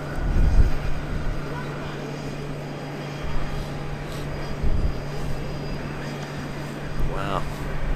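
An airplane takes off at Amsterdam Schiphol Airport, its engine roar a steady, fairly distant rumble that holds throughout behind talk.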